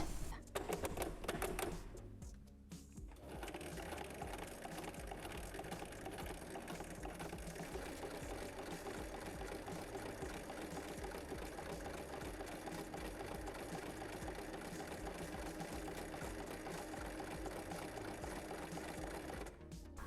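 A sewing machine runs steadily, stitching a square stitch right along the fabric edge with a black-flap presser foot, a loud continuous mechanical whir after a brief stop-start at the beginning.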